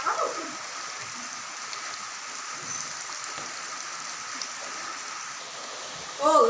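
Steady rain falls outdoors, a soft continuous hiss of drops with no letup, moderately faint throughout and swelling briefly at the very end.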